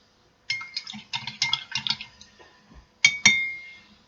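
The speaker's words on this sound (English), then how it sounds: "Okay, we'll just put a little milk in there for her. Okay, now we'll stir it up." A spoon clinks against a cup while milk is stirred into tea, in a quick run of bright rhythmic clinks followed by a short pause and two final taps.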